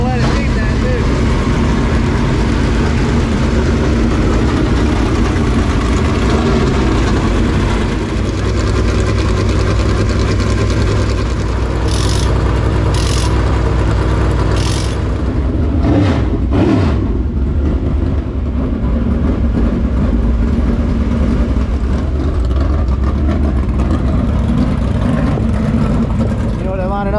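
Dirt track race cars line up for hot laps at Lavonia Speedway in Georgia, their engines holding a loud, steady, close rumble throughout, with indistinct voices mixed in.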